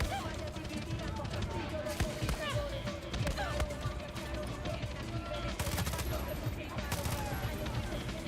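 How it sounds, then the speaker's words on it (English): Enemy gunfire aimed at the player in the video game Far Cry 6: rapid, repeated shots and impacts run throughout among busy game sounds, with a voice talking over the action. "Who the fuck is shooting at me?"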